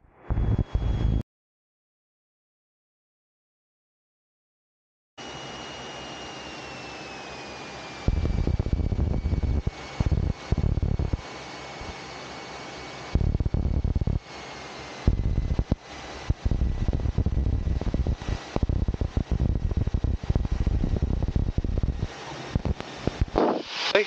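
Steady engine drone inside a Cessna 172 cockpit on approach to runway 15 at Subang Airport, Malaysia, loud and continuous with radio-static bursts and a long silent gap near the start.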